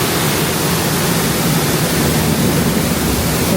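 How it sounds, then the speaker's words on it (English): A misting waterfall at Shanghai Disneyland gives a steady, loud, dense rush of falling water that holds unchanged throughout with no talk. "There's a waterfall constantly misting"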